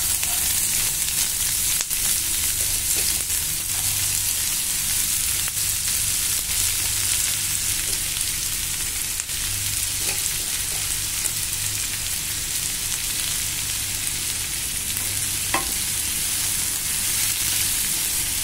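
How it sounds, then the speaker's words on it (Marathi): Chopped onion sautés in hot oil in a pan for prawn masala, a dense, steady sizzle that carries on throughout, with occasional faint scrapes from stirring. "आणि आता कांदा गुलाबी होईपर्यंत आपल्याला परतवून घ्यायचं आहे।"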